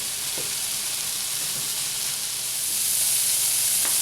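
Ground meat browning with garlic and onions in a pan, a steady dense sizzle throughout with a few faint scraping stirs, close and fairly loud.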